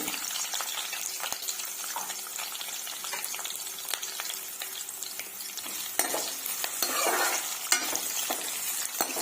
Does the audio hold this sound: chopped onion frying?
yes